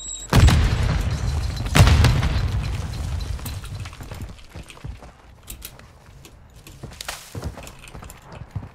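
A loud booming grenade explosion in Call of Duty: Warzone 2.0 with deep rumble that decays slowly, followed by smaller bangs, footsteps and clattering in a game-like soundscape.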